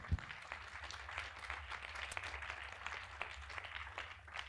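Audience applause for a guest at a seated lecture event: moderate, scattered clapping from a room of people, fairly quiet and even, over a low background hum.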